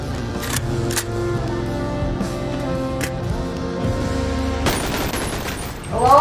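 A turret fires in the VR game Bonelab: several sharp, separate shots crack over a steady tonal game hum, then a dense rapid burst of gunfire rises near the end, loud and close.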